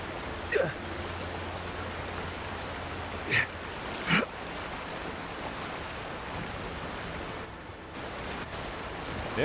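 Steady rushing roar of a waterfall in the video game Avowed, a cave hidden behind it, a continuous even wash of falling water with a few brief clicks and taps on top.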